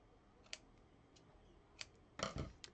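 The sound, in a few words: scissors trimming card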